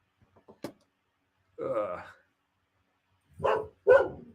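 Dog barking indoors, a couple of short sharp yips followed by two louder, fuller barks after a pause, close and clear with no talk over them.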